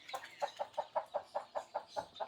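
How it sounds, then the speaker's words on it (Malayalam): Sasso breed chickens, birds of about 3 kg raised for meat on a Kerala poultry farm, clucking in a quick, regular series of about a dozen soft, close calls with no talk. "ഇതിപ്പോൾ 3 കിലോ അടുപ്പിച്ച് വെയിറ്റ് ഉള്ള കോഴിയാണ്"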